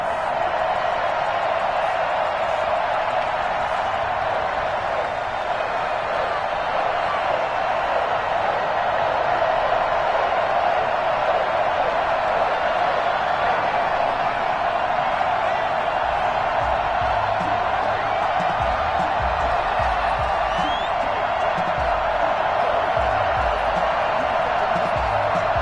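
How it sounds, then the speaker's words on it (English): A stadium crowd at an NFL game between the Miami Dolphins and the New England Patriots makes a broad, continuous roar of distant cheering and murmur that holds steady throughout, with a voice talking over it. "this crowd is ready as their guys get set to match up between the Miami Dolphins and the New England Patriots"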